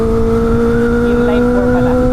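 A Kawasaki ZX-25R inline-four motorcycle engine screams at a high, steady pitch, loud and close, holding a sustained whine with slight wavering.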